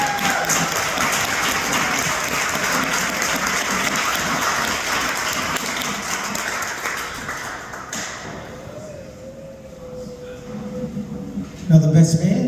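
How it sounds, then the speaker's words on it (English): Wedding guests clap in a dense, steady burst of applause with crowd voices mixed in, fading out after about eight seconds into quieter room noise with a few stray claps near the end. "Come on, make some noise."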